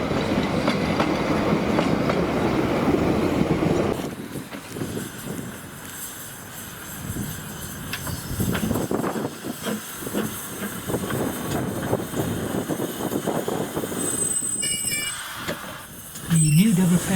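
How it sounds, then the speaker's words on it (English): A Ffestiniog Railway train of bogie carriages built from 1873 onwards rolls past at Porthmadog during a Bygones weekend, with a steady rumble, wheel clatter and hiss rising and falling, then a brief squeal near the end. "The bogie carriages in this train were all originally built from 1873 onwards"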